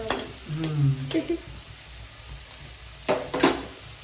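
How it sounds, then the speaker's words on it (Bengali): Vegetables deep-fry in a pan of oil, giving a soft, steady sizzle. A few sharp utensil knocks cut in, and faint low voice sounds rise briefly near the start. "এখন মনে হচ্ছে ডুবো তেলে ভাজা হচ্ছে"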